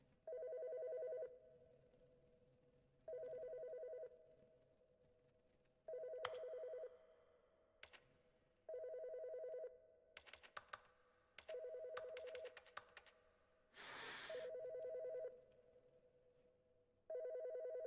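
Telephone ringing in The Stanley Parable: Ultra Deluxe, a repeating electronic ring in regular bursts about every two and a half seconds, with clicky keyboard-like taps and brief noisy bursts between rings.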